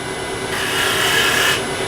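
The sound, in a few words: sanding wood on a turned tool handle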